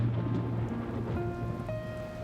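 Steady rain falls during the rainy season, a continuous even hiss of drops with a faint low rumble beneath and no voices.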